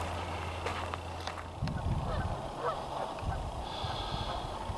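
Outdoors near an island, a goose honks in a few short calls at moderate distance over wind and ambient noise, with no one speaking.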